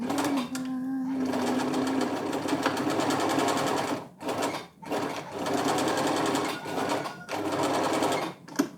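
A sewing machine stitches clothing at home in a steady, rapid whirring drone. It stops briefly several times and then starts running again, with faint talk underneath.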